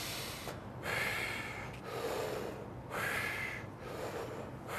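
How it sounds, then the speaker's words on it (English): Deep breaths taken through a respirator mask during an OSHA fit test: two or three long, rasping inhale and exhale cycles, close and fairly steady, with no talking. "I'll get you to take a couple of deep breaths."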